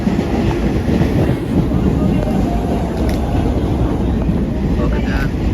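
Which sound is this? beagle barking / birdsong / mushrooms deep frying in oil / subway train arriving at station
subway train arriving at station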